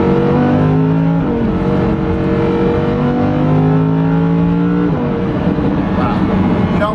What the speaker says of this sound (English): The sound of that V10 is just an amazing sound, right?